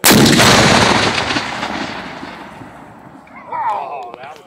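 An original Whitworth cannon fires at Grayling: a single close, very loud blast opens the clip, then rolls off into a long rumbling decay before voices and shouts rise faintly near the end.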